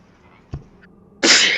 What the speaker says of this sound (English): I didn't mean to sneeze.